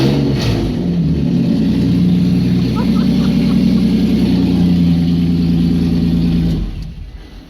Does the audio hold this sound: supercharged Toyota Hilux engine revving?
yes